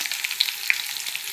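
Mustard seeds, cumin, curry leaves and garlic frying in oil for a horse gram rasam tempering, a steady bright crackle with sharp pops from the spluttering seeds, close and alone with no voices.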